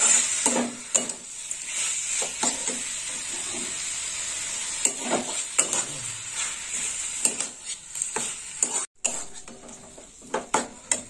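Chopped banana flower is sautéed with sugar in a pan for moong dal, the spatula scraping and stirring in repeated strokes over a steady background hiss of frying, with occasional metallic clinks.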